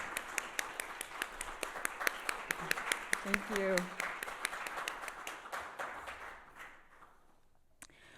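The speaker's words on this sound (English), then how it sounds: "can we give another round of applause to Richard Valituto and Matt Falcone" Audience applause at an art talk: steady clapping from a crowd that gradually thins and fades away, with a brief spoken thanks partway through.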